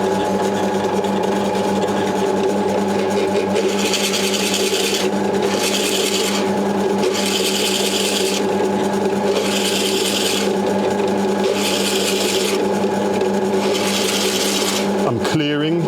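A FISCH Forstner bit bores through wood stock with a steady loud grinding rasp, the motor droning continuously while the cutting noise swells in rhythmic pulses until the bit breaks through near the end.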